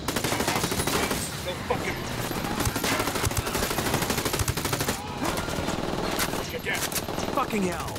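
Video-game gunfire: rapid bursts of automatic weapons and overlapping shots form a dense, continuous barrage that stays loud and close throughout, with brief louder cracks and voices talking over it.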